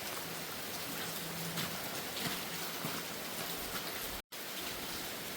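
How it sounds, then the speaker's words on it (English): Steady rain falls outdoors beside a bridge, a dense, even hiss with no break except one brief dropout near the end. No one speaks. "You can see right here it's raining, right here it's not."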